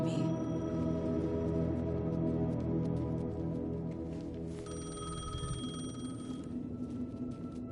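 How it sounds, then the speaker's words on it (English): A payphone rings in the video game Alan Wake II, a steady electronic ring over a dense, droning ambient bed that shifts partway through. "The payphone was ringing."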